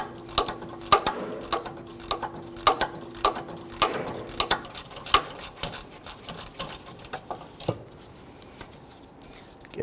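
A 13mm ratchet clicks rapidly and unevenly as a bolt on a 2007-2014 Cadillac Escalade fuel tank filler neck is unscrewed, loud and close, the clicking thinning out and stopping near the end.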